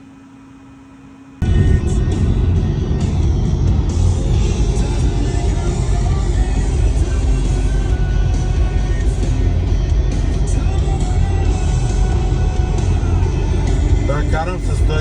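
Steady, loud road and wind roar fills the cabin of a Tesla Model 3 cruising at 110 km/h on a highway, starting abruptly after a quiet moment.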